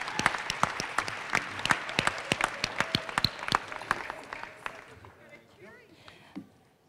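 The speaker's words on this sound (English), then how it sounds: "Give them a big round of applause." Audience applause at an annual college awards and recognition ceremony, a dense burst of steady clapping from a crowd that thins and fades out over several seconds, with a few final claps at the end.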